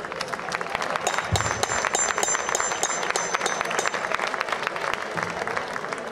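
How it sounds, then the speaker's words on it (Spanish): Audience clapping for gladiator reenactors at a Roman-style spectacle, steady dense applause lasting several seconds with a few scattered shouts and voices. "Un aplauso a nuestros gladiadores."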